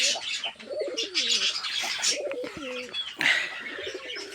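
A pair of English Pouter pigeons in a cage coo in short, throaty rolling bursts close by. Other caged birds chirp steadily behind them.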